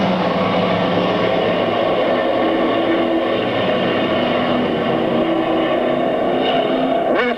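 Stock race cars roar together in a thick, steady engine wall at a green flag start on an oval track, the sustained drone filling the whole moment without pause.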